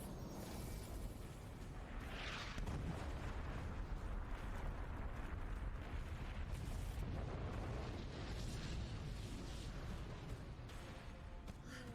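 Meteor attack explosions in the Bofuri anime, a dense, continuous roar of rumbling blasts and booms that stays loud throughout with no clear gaps.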